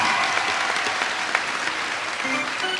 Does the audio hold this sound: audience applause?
yes